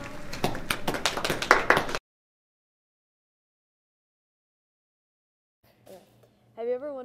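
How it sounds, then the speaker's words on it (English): Applause for a gold medalist race finisher: a loud, dense burst of clapping that stops abruptly after about two seconds, then silence, and later a voice speaking faintly. "give them all a big round of applause"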